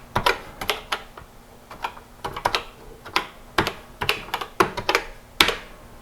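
Keys clack on a TRS-80 Color Computer keyboard in irregular bursts of sharp, close clicks with short pauses between them, and no voices.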